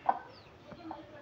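A hen on a poultry farm gives a couple of short, soft clucks near the start and another faint one later, fairly close against a quiet background.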